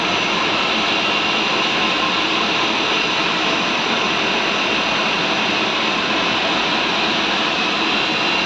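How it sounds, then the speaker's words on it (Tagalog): An inkjet printing machine on a tile production line prints a wood design onto large tiles, giving off a steady, loud, even mechanical roar and whoosh that continues unbroken. "Pagdaan po sa machine, nagkakaroon siya ng print."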